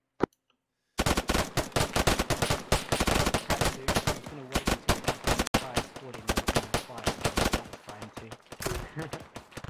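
Automatic and single gunshots crack in rapid, dense bursts during a military video game operation, loud and close after a second of near silence, with brief pauses between volleys and faint voices beneath.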